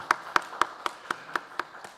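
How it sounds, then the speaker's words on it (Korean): Slow, evenly spaced claps ring out alone, about eight sharp hand strikes at a steady beat, from a church congregation thanking its women's praise team at a military university church prayer meeting. "우리 수고한 우리 찬양팀을 위해서도 한번 감사의 박수 한번 하겠습니다"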